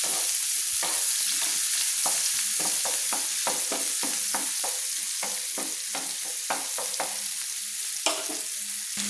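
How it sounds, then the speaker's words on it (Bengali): Sliced onions sizzle in hot oil as a spoon stirs them until golden, with a steady frying hiss cut by a regular series of scraping strokes. "একটু হালকা হালকা সোনালি কালার করে নিচ্ছি এইভাবে নেড়ে।"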